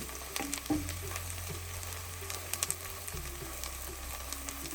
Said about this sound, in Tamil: நம்மளோட வெங்காயம் நல்லா கோல்டன் கலர் மாதிரி வந்துட்டுருக்கு.